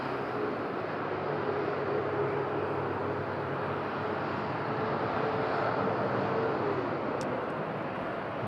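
A TUI airliner taxis at Madeira Island Airport on a windy day, a steady broadband engine roar with a faint whine holding evenly across the whole span, distant but constant, wind rushing underneath.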